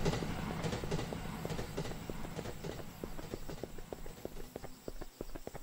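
A distant train in the horror video game Teke Teke: Moonlit Dread clatters in a steady, rhythmic clacking under a low background rumble, faint and unaccompanied by speech.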